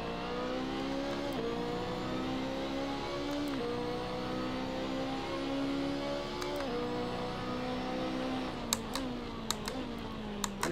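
A BMW race car engine drones steadily in Assetto Corsa on the Nürburgring GP circuit, its pitch stepping through several gear changes, with a few faint clicks near the end.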